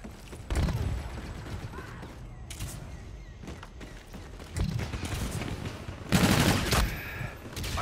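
Weapon fire in Call of Duty: Infinite Warfare comes as scattered sharp bursts and louder volleys between mechanical clanks and creaks, close and punchy over a busy background.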